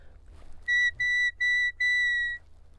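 A shepherd's whistle used to command a sheepdog sounds four sharp, bright, high blasts in quick succession, the last one held longer, loud and close with nothing else heard.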